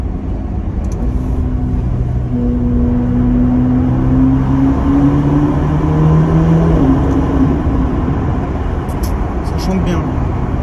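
A Ferrari engine revs inside a tunnel, its loud, steady droning note climbing smoothly in pitch and then easing off, with the echoing roar filling the whole stretch.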